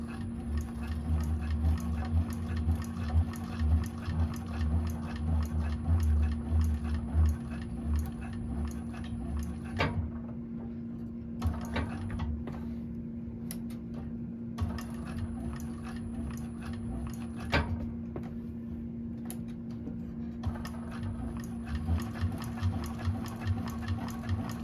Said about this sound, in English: we're going to do top stitching, and I just do 1 stitch back stitch